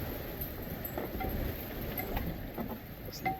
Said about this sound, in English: That's an incredible gust of wind there.